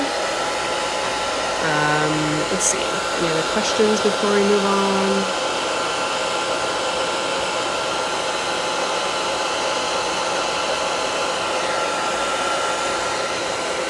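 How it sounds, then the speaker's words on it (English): A hair dryer blows steadily throughout, a loud continuous whoosh, with a person talking briefly over it near the start. "So I'm gonna use my hair dryer."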